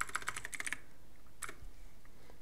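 Quick, faint keystrokes on a computer keyboard while entering network reset commands on a PC, a short burst of rapid clicks followed by a single isolated tap in a quiet room.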